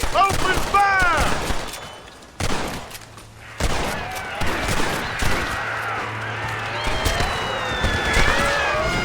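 Gunfire in a Western zombie shootout from Red Dead Redemption: Undead Nightmare, loud repeated shots and volleys cracking in bursts, with shouting voices mixed in among the firing.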